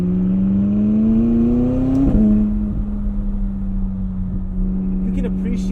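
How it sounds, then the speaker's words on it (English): A 2020 McLaren 600LT Spider with the top down hums along in a steady mid-pitched engine drone that climbs briefly, then settles, with turbo whistle and faint wastegate chatter close by. "you can appreciate the sound of this McLaren way more with the top down"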